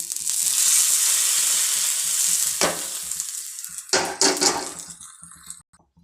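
Mustard seeds and curry leaves tempering in hot oil, a loud, bright sizzle that flares up as the leaves go in, then spatters and fades with a clink of a pan.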